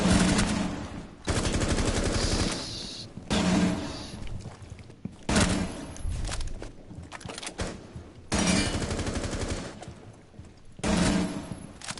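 A video game gun fires in rapid automatic bursts, several loud close strings of shots separated by short pauses, with faint impacts between them.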